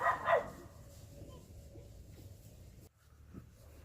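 A pet dog named Khaleesi gives a brief, faint bark or yip at the start, followed by quiet room tone and a soft thud.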